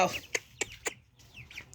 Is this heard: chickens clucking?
yes